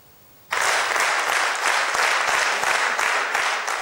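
A concert audience greets Armenian pianist Svetlana Navasardyan with long, sustained applause that bursts in suddenly after a quiet moment and continues dense and loud, with individual claps audible in the wash.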